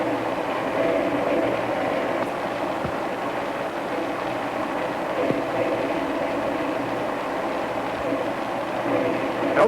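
A 1932 train runs along the tracks with a steady, dense rumble of wheels and carriage noise throughout, loud and continuous, with a few faint sharp clanks.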